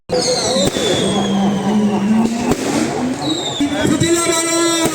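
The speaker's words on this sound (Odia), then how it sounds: "ଫୁଟିଲା ବାଣ" Fireworks and firecrackers at a Ravana burning festival by a pond, whistling rockets rising and sharp pops over a loud, continuous crowd roar, with people shouting and talking throughout.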